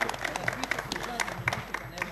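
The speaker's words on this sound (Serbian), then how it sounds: "Molim vas, aplauz jedan." A studio audience at a televised election debate applauds with scattered, moderately loud clapping that continues throughout.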